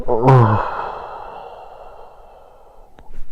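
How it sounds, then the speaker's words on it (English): A man yawns aloud, opening with a deep, throaty gasp that trails into a long, breathy exhale lasting several seconds before a short breath at the end. "here comes that yawn"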